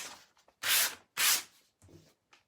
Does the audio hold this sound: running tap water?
no